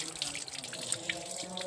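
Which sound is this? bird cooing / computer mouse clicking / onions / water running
water running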